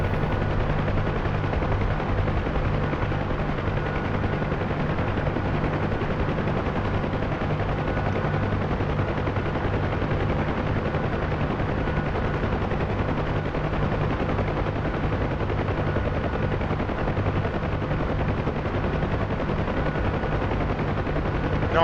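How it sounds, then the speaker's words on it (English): Sustained automatic gunfire from soldiers in a DCS UH-1H Huey helicopter air assault, steady bursts over a constant rotor drone throughout, with no voices. "My guys are shooting away."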